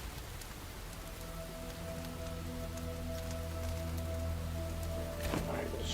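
Rain patters steadily in the survival video game Enshrouded, a dense hiss of droplets with soft tonal game ambience underneath and a brief louder splash or rumble near the end.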